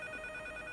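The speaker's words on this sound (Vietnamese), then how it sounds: "Có điện thoại mà, chúng ta phải đi nghe điện thoại." A telephone rings in the horror game Can't Revert, a steady electronic bell tone sounding continuously and clearly with no talking over it.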